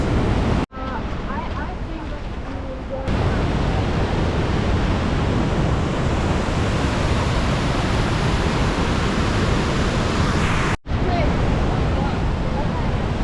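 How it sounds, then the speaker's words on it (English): Vernal Falls at Yosemite, a loud, constant roaring rush of falling water and mist, broad and continuous across the whole stretch, with wind buffeting the microphone. "You can see all the mist coming off of the waterfall"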